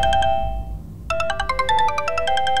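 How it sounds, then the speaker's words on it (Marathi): A mobile phone ringtone plays a bright electronic melody: one sustained tone fades, then a quick run of chiming, stepped notes rings out clearly and alone. "कोणाचा फोन"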